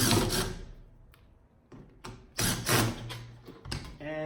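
The hinged control box of a Skutt KMT1022 kiln is opened after its four screws are removed, making several close metallic clicks, knocks and rattles at irregular intervals, loud and without talking.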